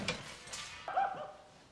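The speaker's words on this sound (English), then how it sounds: "Just our dog, Piranha." Barking from a dog in the 1996 film The Birdcage, a few yips and barks spread across a short stretch, moderately loud and slightly muffled as if from a closed room.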